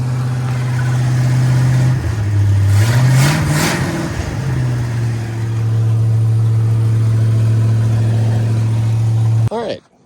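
A 1985 Ford F250 truck engine runs steadily with a deep, close drone, rising briefly in a rev around the middle before settling back to a constant hum, then cutting off abruptly near the end.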